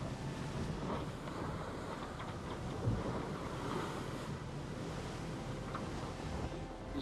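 Sea waves and wind along an ocean coast, a steady broadband wash of surf with gusting wind rumble, continuous and fairly close, with no voices.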